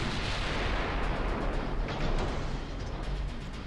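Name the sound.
battleship gunfire in Shipyard Champions video game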